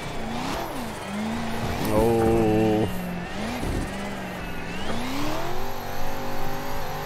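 A BMW E92 coupe's engine revs hard on a track, climbing in pitch through first gear, dropping at the shift and rising again in second, with a driver talking over the noise in the cabin.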